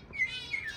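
Diamond finches in an aviary give a few thin, high, brief chirps, moderately close, over a faint background hum.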